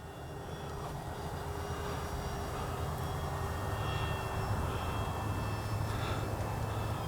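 A Kavan Pilatus PC-6 Porter RC plane flies steadily at a moderate distance, its engine drone holding even and continuous with a faint rise and fall as it passes, in the open air of an evening flight.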